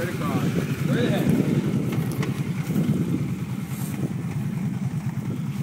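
Kawasaki Brute Force ATV engine running steadily nearby with a throbbing, rapid low rumble that holds through the whole stretch, mixed with wind noise on the microphone.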